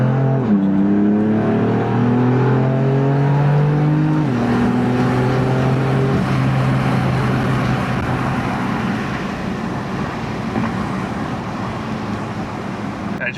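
A BMW M4 accelerating hard in a straight line, engine note rising through gears with a clear upshift, loud and close, then settling into road and wind roar.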